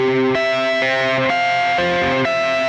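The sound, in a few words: electric guitar humbucker pickup sound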